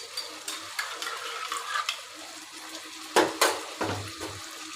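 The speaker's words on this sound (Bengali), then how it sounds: "মাংসটা কষে গেছে, এখন আমি পানি দিয়ে দেব।" Water is poured into sizzling chicken in mustard oil for chicken pulao, with soft stirring and frying crackle before a sudden loud hiss and splash as the liquid hits the hot pan.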